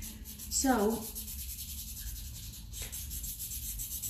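A hand draws on paper, giving soft, close scratching and rubbing strokes over quiet room tone, with a short stretch of talk near the start.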